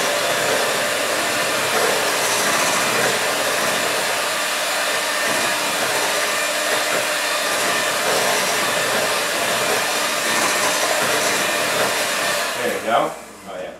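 An inexpensive electric hand mixer whirs continuously in a kitchen during holiday dinner preparation, a loud steady motor buzz that holds for about twelve seconds before sputtering and stopping.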